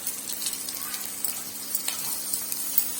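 Onions sizzle softly in a hot pan, a steady, fairly faint crackle of frying with small pops throughout and no voices.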